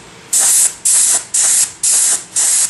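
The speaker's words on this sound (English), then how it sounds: "Let me do some test spraying." Five short bursts of hissing spray from an airbrush spraying Createx paint at about 30 psi with a large needle, evenly spaced, each about a third of a second, loud and close with quiet gaps between.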